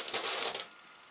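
Dug-up old coins clink and jingle in a dense metallic cluster while being sorted, loud and close for well over half a second, then stopping abruptly into near silence.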